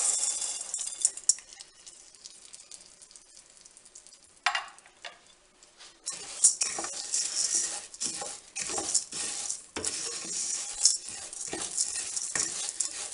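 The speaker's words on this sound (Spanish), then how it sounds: "En una paella de fondo o en una olla de forja, vamos a empezar sofriendo el arroz" Rice toasting in oil in a wide flat paella pan for Valencian arròs a banda, with a steady sizzle broken by stirring scrapes and spoon taps against the metal. The sound is close and loud, with no voices.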